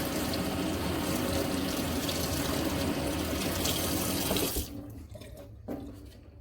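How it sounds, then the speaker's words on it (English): Tap water runs steadily and loudly over a sheet of etched glass at a sink, a continuous close splashing hiss that cuts off abruptly near the end, leaving brief faint drips and handling noises. "And let the water run on it."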